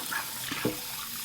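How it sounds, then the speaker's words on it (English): A cast iron skillet is rinsed under a running kitchen tap, giving a soft, steady stream of water with a couple of small splashes, quiet and with no talking. "And I just rinse it with water."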